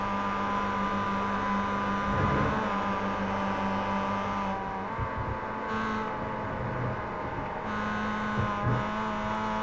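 Mazda MX-5 Miata race cars lap Virginia International Raceway in a sim racing game, engines droning steadily with rising and falling pitch as cars pass and shift, loud and continuous without talk.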